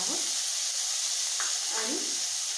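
Chopped tomato and grated ginger fry in a pan for cashew curry, giving a steady bright sizzle and hiss throughout while someone talks over it.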